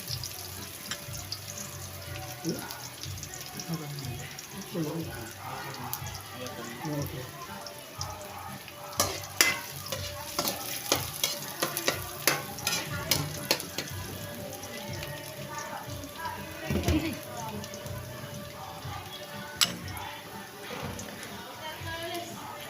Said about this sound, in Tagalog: bawang at sibuyas. Haluin po natin, haluin